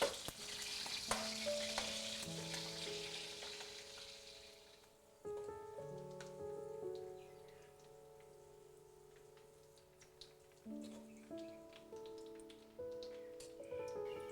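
Thai sun-dried squid deep-frying in hot oil, a faint steady crackle and bubbling with scattered pops. Sustained tonal music plays over it, and no one talks.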